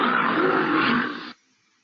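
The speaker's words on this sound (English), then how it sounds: "And here's the lion sound here." Lion roar sound effect played from an interactive page in Boardmaker Online, a single loud, rough roar lasting just over a second that cuts off abruptly into silence.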